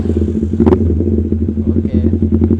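Carbureted Kawasaki Ninja motorcycle fitted with an SC Project exhaust, close and loud, with a throaty engine burble and a sharp rev blip with crackle, then uneven idle pulses, alone without talk.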